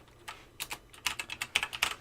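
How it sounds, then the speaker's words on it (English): Quick keystrokes on a computer keyboard as a file name is typed, about a dozen light, close clicks in a fast uneven run. "then just type now what you want to name it"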